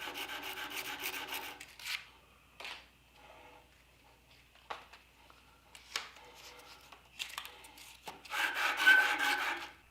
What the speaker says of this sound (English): that's how much it took to sand out the 4 bevels